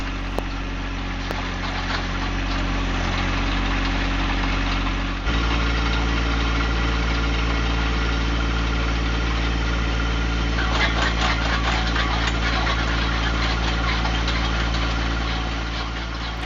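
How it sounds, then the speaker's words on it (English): A John Deere 1025R compact tractor runs steadily, driving a post hole digger auger. Its close, continuous engine drone shifts in tone about a third of the way through, then holds a rougher, busier rumble. "First post hole I've ever dug with a post hole digger for a tractor."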